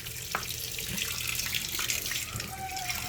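Water used to wash rice pours steadily into a sink, a continuous close splashing rush with no pauses and no talking.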